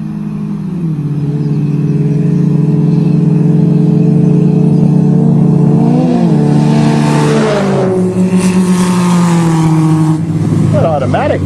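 Several imported four-cylinder cars race through a wheat field, their engines droning loudly and steadily with a rising rev partway through, and a voice may be faintly present.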